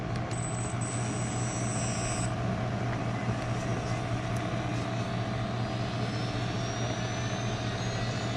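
A Losi Promoto MX RC dirt bike with Spektrum telemetry runs its electric motor in a steady, even whine with a constant hum beneath, near and continuous throughout.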